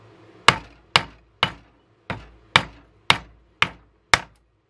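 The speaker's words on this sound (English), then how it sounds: "now we're going to go over to a larger ball peen hammer. And we're going to start, beating on the scales." Ball peen hammer striking glued wooden knife scales: eight sharp, evenly spaced blows about half a second apart, each a loud, close crack with a short ringing decay, alone with no talking.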